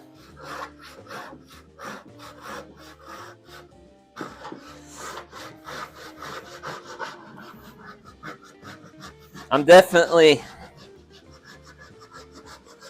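Hand saw cutting through wood in a workshop, a steady run of rasping back-and-forth strokes close to the microphone, with a brief spoken phrase and a louder burst of scraping near the end.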